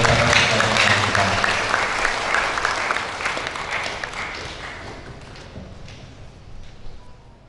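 Congregation applause after a church wedding ceremony, steady dense clapping from a crowd that slowly thins and softens over several seconds, heard fairly close in a reverberant hall.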